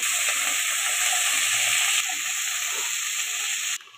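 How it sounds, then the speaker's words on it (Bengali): Bottle gourd stalks fry with potatoes in a pan, giving a steady, close, hissing sizzle that holds evenly and drops away abruptly near the end. "এগুলোও আমি একটু আলুর সাথে ভেজে নেব।"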